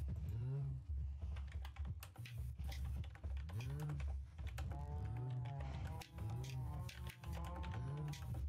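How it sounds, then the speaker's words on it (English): Keys on a computer keyboard clatter faintly in irregular bursts beneath children's voices and game-like sounds that dominate the scene. "Who are you typing to?"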